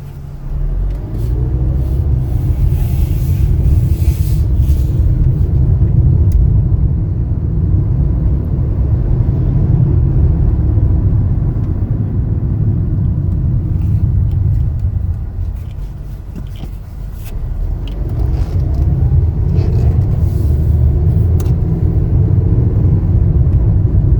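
A 2016 Kia Forte LX on a test drive gives a steady low road rumble and engine hum from inside the cabin, easing briefly midway before settling back, with no voices.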